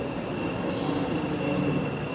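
Metro train running through a station in Washington, DC, a steady mechanical rumble and hum with a constant high whine, near and unbroken throughout with no talk.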